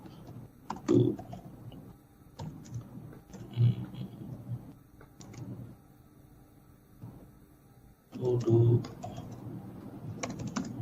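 Keys clatter on a computer keyboard as a to-do list is typed in Notion, with quick bursts of clicks separated by pauses and a low voice murmuring faintly underneath.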